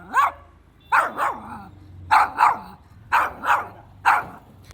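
A pet dog barks in short bursts, single and double yaps repeating about once a second, close and clear with no talk.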